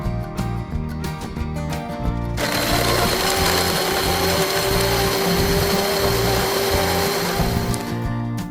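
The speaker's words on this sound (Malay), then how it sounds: "Tambah ais cukupnya dan kisar semua bahan sehingga halus." A blender whirs loudly and steadily, its motor grinding ingredients with a continuous high buzz after a short start-up.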